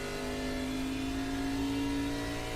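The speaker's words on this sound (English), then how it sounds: "Feather in the throttle, you hear it." A video game race car engine in iRacing at ISM Speedway drones steadily at close range, holding a sustained mid-pitched tone with a slight feathered throttle lift, no voices.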